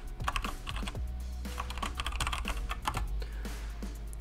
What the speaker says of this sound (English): just type in the name of that account